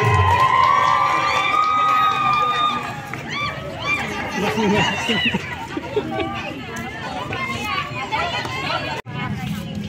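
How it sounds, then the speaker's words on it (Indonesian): Crowd cheering and excited chatter at a prize ceremony for drum band competition winners from kindergartens and primary schools, a dense steady roar of voices with children shouting throughout, briefly cutting out near the end. "Selamat kepada seluruh pemenang kita berikan aplaus yang meriah."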